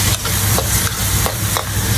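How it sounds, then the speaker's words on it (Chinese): Onion, garlic and mild red pepper are stir-fried in a hot pan with a loud, steady sizzle, while a spatula scrapes through in rhythmic strokes about three times a second. "蒜梨準備好，開始炒菜。"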